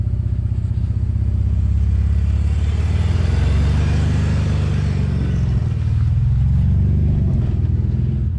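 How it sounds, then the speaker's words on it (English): A BMW E46 idles and revs steadily nearby with a metallic exhaust rattle running continuously beneath the low engine drone. "The exhaust is rattling"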